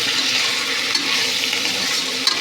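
Soaked rice being stirred in hot oil for chicken biryani, giving a continuous dense sizzle with soft scraping of the spoon and a couple of small clicks near the end.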